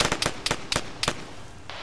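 Gunfire in the video game Arma 3 rings out as a string of sharp, loud, close reports, single shots and short irregular bursts with brief pauses between them.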